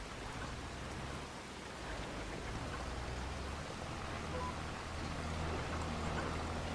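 Rain falling in Farming Simulator 25 on a coastal farm map, a steady, dense hiss of downpour on surfaces that continues evenly throughout, with a faint low rumble beneath and no voices.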